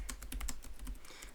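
Rapid clicking of keys on a computer keyboard as a Linux terminal command is typed, close and steady with short bursts of keystrokes and no talking.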